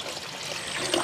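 Water splashes and trickles as cooked salt fish is picked apart by hand in it, a brief soft wet sound nearby.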